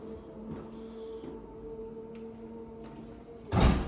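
Powered tailgate of a 2017 Audi A5 Sportback S line with a steady motor hum and a few faint clicks, ending in a louder thud as the boot lid latches.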